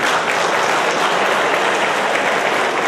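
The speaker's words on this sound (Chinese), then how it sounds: "请你们给自己一个鼓励的掌声" A school audience applauds steadily at a reunion gathering, dense continuous clapping filling the room at even loudness with no pauses.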